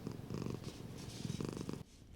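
A cat resting on someone's lap purrs close up in a low, rhythmic rumble of repeated breaths, steady and fairly loud, before the purring cuts off abruptly near the end.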